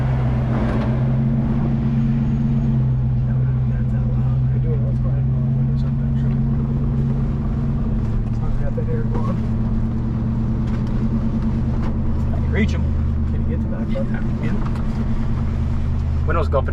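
A 1972 Mercury Cougar engine idles with a deep, steady exhaust rumble close by, while people talk intermittently over the low droning hum.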